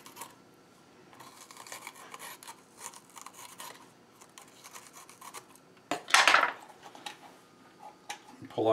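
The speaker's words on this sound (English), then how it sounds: "I'm going to have to reach down inside and cut these webs" A knife cutting out the inner webs of a green pepper, with quiet close scraping and small cuts, then a louder crisp crunch near the end.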